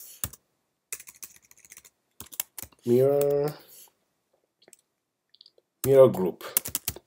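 Typing on a computer keyboard during a VMware ESXi setup, scattered close key clicks in short bursts between brief spoken phrases.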